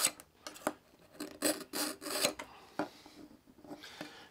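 Steel knife blade drawn repeatedly through a Smith's 2 Step Knife Sharpener under hand pressure, giving a series of short, close rasping strokes with brief pauses between them.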